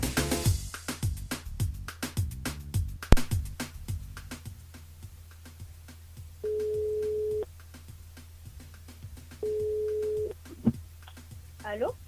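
A radio studio phone line calls out to a listener: after a stretch of voices and clattering sound, two long, steady ringback tones sound with a pause between them.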